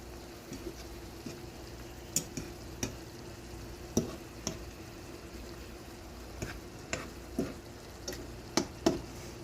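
Food cooking in a pan with Worcestershire sauce, stirred continuously, giving a quiet sizzle under repeated clicks and taps of a utensil against the pan, spaced irregularly through the stretch.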